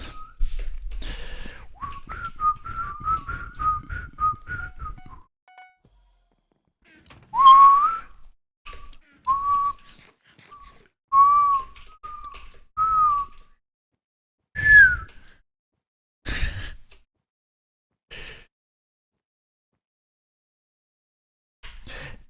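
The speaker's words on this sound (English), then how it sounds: "Half these whistles were not produced by me. I just answered the whistles." Whistled notes traded back and forth during a Hypixel BedWars Minecraft match, a run of wavering tones followed by several short separate whistles with gaps between, fairly loud and with no talking.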